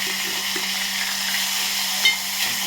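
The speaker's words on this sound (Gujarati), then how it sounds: "જે આ ડુંગળી આપણે એકદમ છીણીને રાખી છે એ એડ કરી દઈશું" Grated onion hits hot oil already holding whole cumin and asafoetida, producing a steady, close broadband sizzle that holds for a few seconds with a brief sharper crackle near the end.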